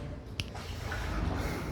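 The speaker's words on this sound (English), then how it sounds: "there is water coming in here" Water seeps and drips into a canoe inside a low underground tunnel, with one clear close drip followed by soft trickling and sloshing under a steady low background rumble.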